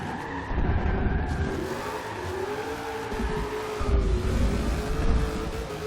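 A Dodge RAM Hemi street build with a GT500 engine swap in Forza Horizon 2 revs loudly and continuously, a droning engine note with shifting pitch under tire screech.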